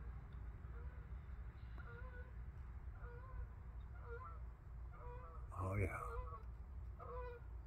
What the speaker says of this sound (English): There goes two Canadian geese.